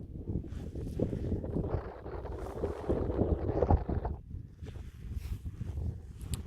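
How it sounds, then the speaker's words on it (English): Gusty wind buffeting a microphone on an exposed Hebridean hilltop surrounded by lochs, a loud roaring rumble in rising and falling bursts, easing briefly before picking up again. "it's a bit more blowy up here"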